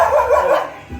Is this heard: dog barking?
yes